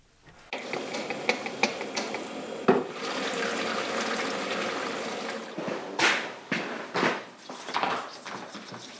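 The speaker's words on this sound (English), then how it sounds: "let's wash out the caliper, give it a good clean" Water runs and splashes steadily over a motorcycle brake caliper from a Suzuki GSX 1400 as it is washed out, with clattering handling sounds and bursts of spray near the microphone, no talk.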